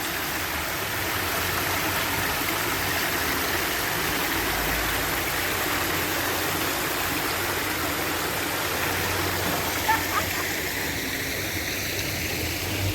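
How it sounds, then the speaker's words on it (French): Steady, dense rain hiss fills the whole stretch, even and unbroken, with a low hum of passing traffic beneath and no voices, at Place Jean Jaurès in Toulouse. "Là, il pleut."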